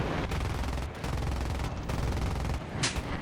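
Rapid bursts of aircraft cannon fire from an AD-4 in War Thunder, loud, dense machine-gun volleys with only short breaks between strings.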